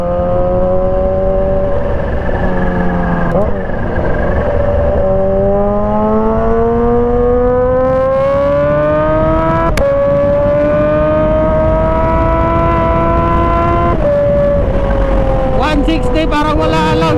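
A motorcycle ridden straight along a road at Kaamulan, Malaybalay City, its engine whining and rising through the revs in long climbing tones, loud and close, with a gear shift midway and wind rushing past.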